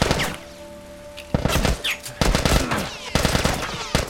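Gunfire in The Last of Us video game comes as loud, close bursts of rapid shots separated by brief pauses.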